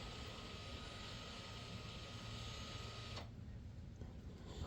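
Electric parking brake motor on a USA-version Kia retracting the brake in pad change mode, a steady close whirring drone that stops abruptly, leaving quieter background.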